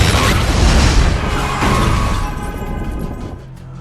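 A big, rumbling explosion in the film Iron Man 3, with a loud boom that holds dense and noisy for a few seconds, then slowly fades away.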